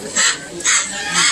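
A parrot at the Parrot Mountain bird park in Pigeon Forge, Tennessee gives three harsh, raspy squawks in a row, close by and fairly loud, with short gaps between them.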